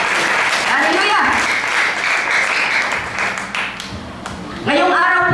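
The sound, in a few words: church congregation applause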